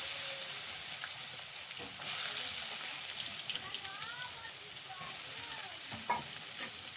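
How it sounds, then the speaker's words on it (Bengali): Chopped onion and garam masala sizzle loudly in hot oil for a spicy crab and potato curry, with stirring scrapes through the frying and a faint voice briefly in the background. "পেঁয়াজ কুচিটা দিয়ে একবার ভালো করে নেড়ে নেব।"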